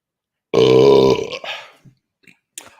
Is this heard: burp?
yes